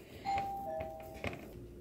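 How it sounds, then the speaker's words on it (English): A household doorbell chimes in a home kitchen, two clear ding-dong tones ringing out at moderate volume with no talking over them. "Doorbell rang, had to go answer it."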